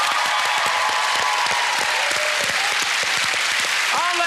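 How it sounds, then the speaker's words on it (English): A studio audience on a TV game show applauds a contestant named Chloe, loud and continuous, with faint voices and a brief voice rising near the end. "Give her a big round of applause."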